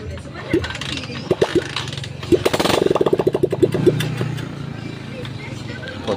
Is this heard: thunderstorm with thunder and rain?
no